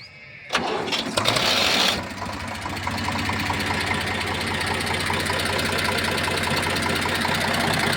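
A 2012 Eicher 368 truck with its original company-fitted engine cranks briefly, catches, and settles into a steady, rhythmic diesel idle that chugs on evenly and close by.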